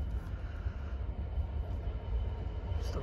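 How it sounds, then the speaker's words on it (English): A freight train pulled by a class 66 locomotive passes through Walkden station, a steady low rumble and rolling wheel noise that holds evenly throughout at moderate distance. "We've got the freight train now."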